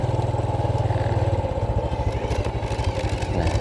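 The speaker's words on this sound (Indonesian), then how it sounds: "Mumpung ini halamannya luas, kami coba keliling sedikit pakai motor" A motorcycle engine putters steadily and close by as it rides around the large yard of a traditional Minangkabau rumah gadang in a village, a continuous rhythmic mid-pitched drone.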